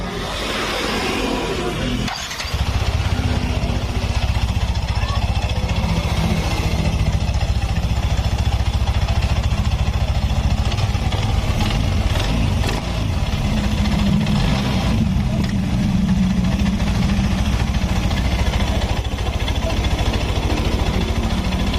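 A Yamaha Nmax scooter engine, just repaired, starts with a brief cranking burst and settles into a steady, loud, close idle that runs evenly for about twenty seconds.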